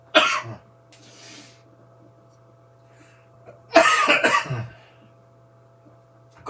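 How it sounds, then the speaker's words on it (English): A person coughs during a card-making session: one short cough burst at the start, then a louder cluster of two or three harsh coughs midway, with quiet room tone and a steady low hum in between. "I'm just going to cough."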